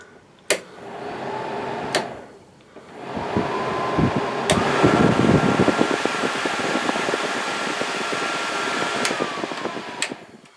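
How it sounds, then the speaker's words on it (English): Newly fitted, more powerful blower motor for the air conditioning in a Jeep CJ-7 spins up after a few clicks, then holds a steady, loud whooshing fan roar with faint whine, punctuated by occasional sharp ticks. "there's the new more powerful blower motor, and here's the one on the AC."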